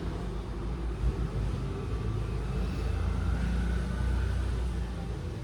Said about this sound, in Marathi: तुम्हाला खूप जास्त आवाज येत असणार आहे गाड्यांचा